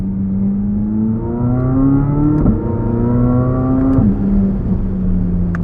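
A 2023 Chevrolet Corvette Z06 engine revs loud and close, climbing steadily through the gears in a rising harmonic whine, with sharp shift breaks near two and a half and four seconds before settling into a steady drone.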